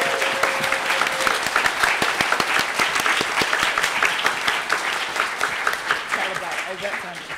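An audience at a live debate event on humans, data, AI and ethics claps loudly and continuously for several seconds, a dense, sustained applause with no break.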